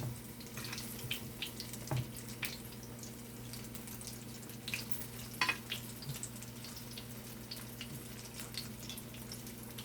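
Saltfish fritters frying in oil, a faint steady crackle and sizzle with scattered popping bursts and occasional utensil clicks, under a low constant hum, no talk.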